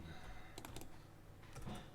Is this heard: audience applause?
no